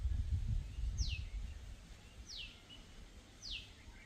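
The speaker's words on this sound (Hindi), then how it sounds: "इनकी भी सुन लीजिए, इन परिंदों की आवाज़ें" Three short, clear descending bird calls, spaced a second or so apart, ring out at a lakeside with greenery over a soft rustling outdoor background.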